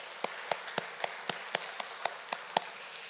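Applause comes from a church congregation during a Sunday morning worship service. Crisp, evenly spaced claps land about four times a second in a steady rhythm over a quiet room.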